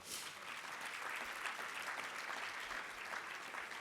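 A room of dinner guests applauding honorees at an Urban League annual dinner, steady sustained clapping from a crowd, moderately distant and unbroken.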